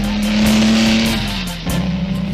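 A car engine runs at a steady hum that rises slightly, dips, then picks up again, close and fairly loud with no talking, the kind of whimsical vehicle seen in a Dr Seuss film.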